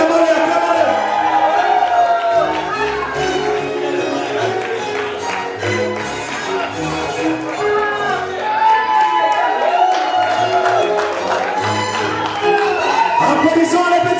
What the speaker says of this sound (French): acclamez-les, acclamez-les.